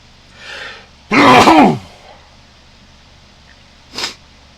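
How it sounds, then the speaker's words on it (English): A single loud sneeze bursts out close to the mic during a Star Trek Online game stream, preceded by a faint breathy intake and followed a few seconds later by a short, softer second sneeze-like burst. "Wouldn't be a stream without a sneeze."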